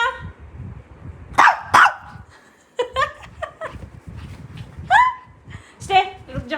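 A dog gives a few sharp barks indoors, two close together early on and more scattered through the rest, while a person talks around and between them.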